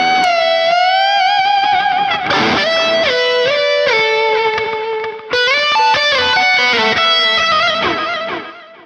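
Distorted electric guitar plays a shred-style rock solo at a slow tempo, with sustained bent notes and wide vibrato over a thick, continuous overdriven tone, loud and alone with no voices.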